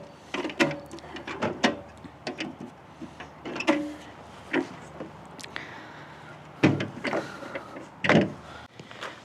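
Small magnetic drawers on a US General mini toolbox from Harbor Freight close with a series of short, light metallic clacks and snaps, irregularly spaced and fairly close.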